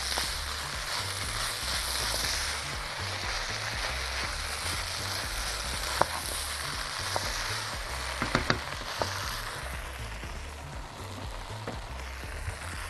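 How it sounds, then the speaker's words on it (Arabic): Ingredients for red rice with tomato sauce fry steadily in a pan, a soft continuous sizzle with a few scattered clicks and taps of stirring partway through over a low background hum. "نقلب بس كله كده مع بعضه"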